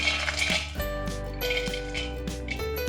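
Sprouted green gram goes into a salad bowl with a series of bright metallic clinks and taps against the bowl, heard close and over soft background music.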